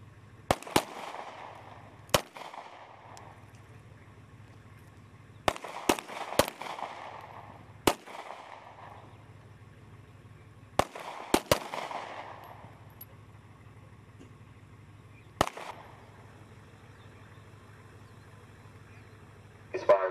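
Rifle gunfire on an outdoor military shooting range during a competition, heard as sharp single shots and quick doubles spaced a few seconds apart, each crack ringing out with a short echo over a low steady hum.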